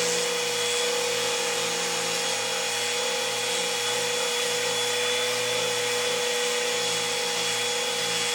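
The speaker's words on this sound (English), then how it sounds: "Got to make sure you don't get too strong of a vacuum cleaner, otherwise it'll suck your brain out through your ear." A Flowbee vacuum haircutting device runs as a steady, loud motor whine with a constant high hum and a faint rumble, unbroken from start to finish and with no voices.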